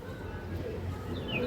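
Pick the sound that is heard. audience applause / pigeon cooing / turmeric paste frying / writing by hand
pigeon cooing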